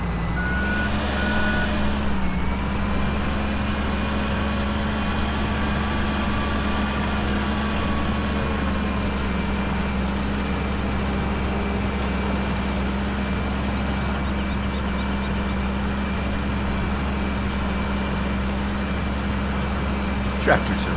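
A Farming Simulator 17 tractor engine drones steadily and loudly without pause, with a constant low rumble and higher whining tones holding level throughout.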